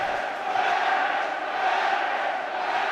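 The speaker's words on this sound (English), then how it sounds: "Well, the crowd in front of us here, they're going crazy. They've gone bananas" A rugby league crowd at Widnes roars in a steady, dense wall of cheering and shouting, loud and sustained without a break.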